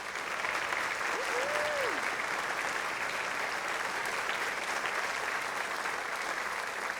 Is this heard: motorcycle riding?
no